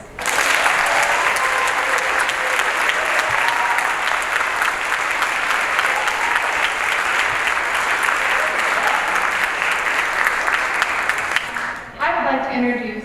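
An audience at a middle school chorus concert claps in sustained, dense applause for about twelve seconds before it quickly fades and a voice begins speaking.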